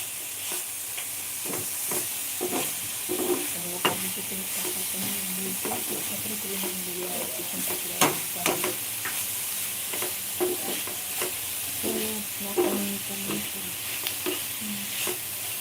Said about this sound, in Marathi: असं भाजून घ्यायचं थोडंसं कमी गॅसवर भाजून घ्यायचं